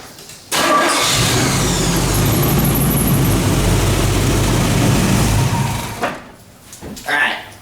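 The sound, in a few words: truck engine starting and running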